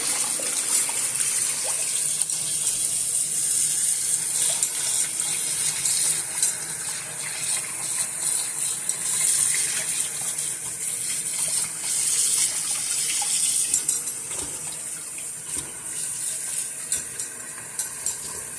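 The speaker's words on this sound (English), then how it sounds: "and then I'm gonna wash the pan." Tap water runs steadily into a kitchen sink while a pan is washed, a loud continuous gushing stream holding even for the whole stretch with no talk over it.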